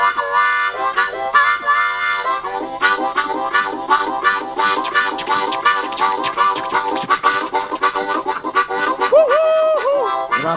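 Harmonica playing a train blues pattern that imitates a steam train, with rapid rhythmic chugging breaths in a driving pulse, ending in a wailing whistle-like bent note resembling a train siren.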